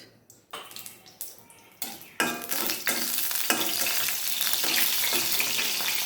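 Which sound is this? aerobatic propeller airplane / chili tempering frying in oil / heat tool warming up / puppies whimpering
chili tempering frying in oil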